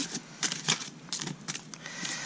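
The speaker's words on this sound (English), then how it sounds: "I'm having a harder time shuffling because they're so long." Large, long oracle cards being shuffled by hand, a few soft riffling bursts of papery flicks close to the mic, no talk.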